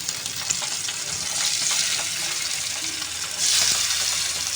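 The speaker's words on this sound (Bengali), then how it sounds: "প্রথমে মৌরলা মাছগুলো ভেজে নেব" Small mourola fish fry in hot oil with a continuous crackling sizzle that swells louder toward the end, close by and with no talk.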